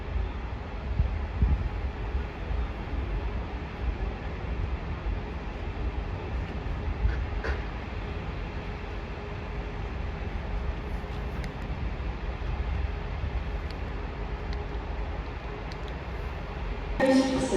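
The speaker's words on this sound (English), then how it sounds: "That's 220-004 reeling off to Bristol Temple Meads." A departing train, 220-004, rumbles steadily at a distance from Stoke-on-Trent station, a low continuous roar with wind noise across the microphone and no clear talking.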